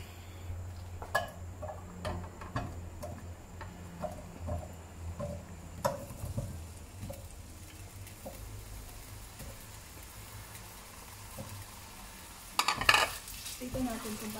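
Potatoes fry in hot oil in a pan at a quiet, low sizzle. Scattered utensil taps and stirring clinks sound throughout, and a brief, louder clatter of cookware comes near the end.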